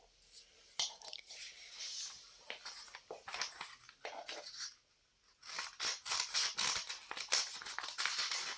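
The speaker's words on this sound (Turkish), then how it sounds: "Şimdi makas lazım." Scissors make a series of crisp, irregular snips and clicks close by while cutting folded craft material. Soft whispered talk and handling rustle come in between the cuts.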